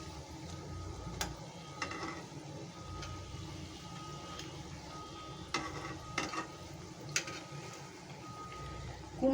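Pumpkin flower fritters fry in a pan with a steady soft sizzle, broken by a few sharp clinks and scrapes as they are turned; no one speaks.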